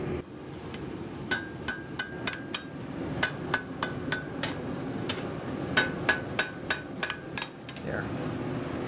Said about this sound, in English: Now we're going to forge a knife blade.